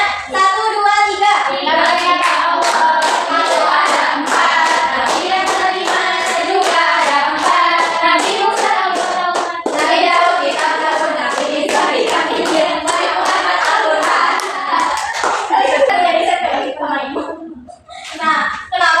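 Classroom of children doing a rhythmic clapping chant in an Islamic religious lesson, sharp in-time claps repeated in a steady beat while young voices chant along, loud and close, before a short pause near the end.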